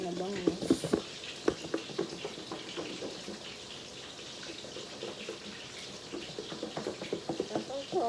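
Dried milkfish (daing na bangus) fries in a pan with a soft, steady sizzle and popping, broken by clinks and scrapes of stirring; fairly faint and close.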